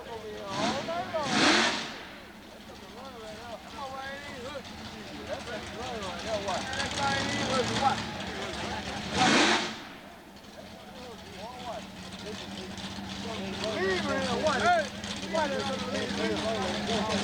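Drag racing cars roar down the strip at Southeastern Dragway during a 2000 meet of Pro Mods and weekly Super Gas racing, with two loud passing surges over a steady engine drone while an announcer talks throughout.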